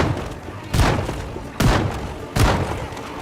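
Three heavy shotgun blasts boom out in Project Zomboid, roughly evenly spaced, each a loud thudding burst with a brief decaying tail over a steady background of game noise.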